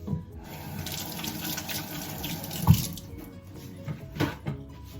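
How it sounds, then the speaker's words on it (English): Hands are rinsed under a running kitchen tap, water streaming and splashing steadily for a few seconds, with a clunk and a couple of louder splashes near the end, close and moderately quiet. "I'm gonna rinse my hands"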